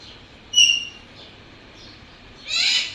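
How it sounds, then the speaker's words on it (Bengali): Two short bird calls, a quick chirp near the start and a louder burst of high calling near the end, with quiet pauses in between. "আমার পাখিগুলো ডাকতেছে"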